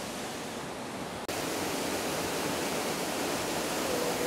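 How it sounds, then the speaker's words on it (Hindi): Steady broadband rush of water flowing at Sarfa Dam, a continuous roar heard alone without voices, briefly dipping then resuming at full loudness. "ये देखिएगा सरफा डैम का खूबसूरत नज़ारा"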